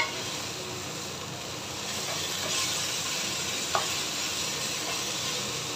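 Water spinach (kangkung) frying in a pan gives a steady, dense sizzle and hiss, with a faint scrape of stirring and one small clink partway through.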